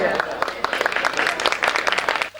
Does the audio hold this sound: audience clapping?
yes